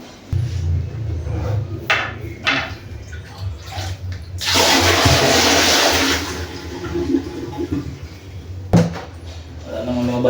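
A toilet is flushed during a leak test after installation, a loud rushing gush of water lasting a few seconds, with knocks and handling sounds before and after.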